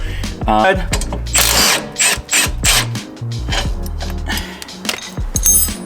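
Bolts and nuts coming off the rear control arm of a 2022 Subaru VB WRX, a power tool or ratchet whirring and clicking in repeated loud bursts with short pauses between them, close up, with some speech.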